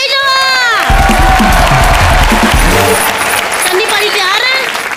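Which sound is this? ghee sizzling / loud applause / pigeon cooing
loud applause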